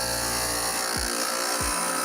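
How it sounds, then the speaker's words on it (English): A glass edge grinder running at close range with a loud, constant whirring drone, its pitch dipping briefly twice as the glass is pressed against the wheel. "We're gonna turn on our grinder"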